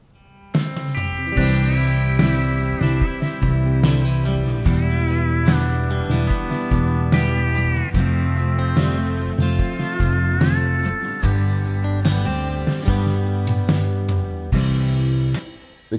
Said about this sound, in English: the keyboard starts with a long introduction